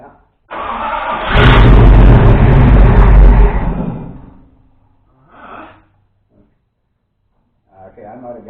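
A 1965 Dodge D100's 331 Hemi V8 cranks and fires for its first start, roaring loudly for about three seconds before dying away, followed by brief sputters and people talking nearby.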